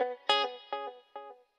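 Electric guitar with light distortion mixed for pop, four or five plucked notes or chords ringing out in a steady rhythm, each decaying before the next, clean and close with no talking.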